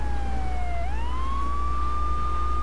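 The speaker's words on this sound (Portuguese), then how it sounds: "Mas eu vou deixar a sirene ligada, porque senão os caras não saem da frente." A police car siren in the video game GTA 3 wails in a continuous rising and falling sweep, loud and steady over a constant engine drone with no talk.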